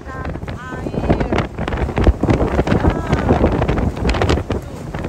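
Strong storm wind roars across Europoort harbour in the Netherlands during storm Eunice, gusting and buffeting the microphone in a loud, continuous rush with boat and water noise mixed in.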